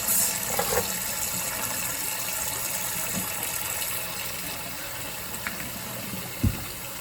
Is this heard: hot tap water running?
yes